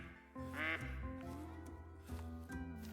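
A mallard duck quacks outdoors in a repeated series of nasal, honking calls, clear and fairly close against a quiet background.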